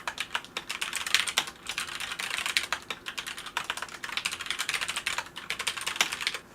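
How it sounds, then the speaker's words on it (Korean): Steady, fast clacking of a mechanical keyboard, keys struck in quick continuous runs, close and crisp with no voices. "소리를 들려드릴게요 키보드 소리"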